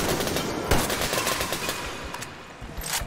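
Gunfire in the Metro Exodus video game, a rapid burst of sharp close shots followed by scattered single cracks over a dense, noisy battle background.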